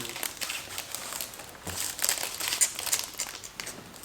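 Plastic crinkling and rustling in close, irregular bursts, with a few sharper crackles partway through and no voices.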